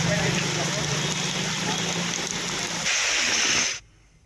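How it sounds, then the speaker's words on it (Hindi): Heavy monsoon downpour in Tonk, Rajasthan, a dense steady hiss of rain close by that continues without a break, then cuts off abruptly near the end. "उधर टोंक में करीब 1 घंटे तक मूसलाधार बारिश हुई"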